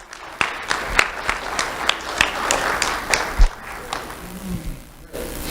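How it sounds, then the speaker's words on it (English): Applause for a student honoree at a county sheriff's office award ceremony, a steady crowd clapping with sharp individual claps popping out, fairly close and sustained for several seconds before trailing off. "Round of applause for James."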